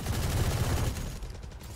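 Sustained automatic gunfire spraying in the video game Valorant, a dense rapid burst up close that fades near the end, with no voices over it.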